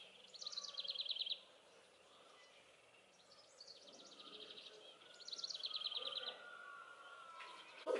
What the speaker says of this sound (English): You hear little birdies out there chirping and doing their thing.